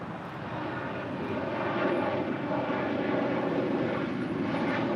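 An Airbus A350 departs at LAX, its engines a steady, loud, broad roar that swells slightly and holds throughout, without voices.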